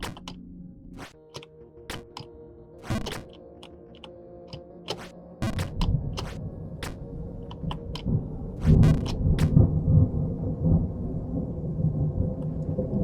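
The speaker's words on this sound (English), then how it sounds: "I hear thunder." Thunder from the video game Jump King builds into a deep, sustained rumble midway and keeps rolling. Rapid keyboard clicks and taps run throughout, close and sharp over the storm.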